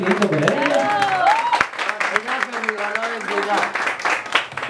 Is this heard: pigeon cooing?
no